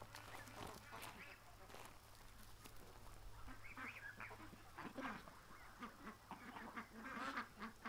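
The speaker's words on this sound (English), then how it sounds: "I just heard quacking at the lake" A small duck near a lake feeder quacks in a few short, faint bursts, heard over low background hum while people talk nearby.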